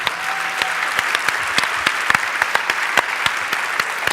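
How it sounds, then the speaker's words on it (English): Audience applause after a voice and music performance, a full, even wash of many hands clapping for several seconds, with a few louder individual claps near the front. "I think you deserve a round of applause."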